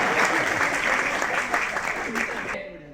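Audience clapping at a national poetry gathering at Kurukshetra University, dense sustained applause close by that fades out near the end.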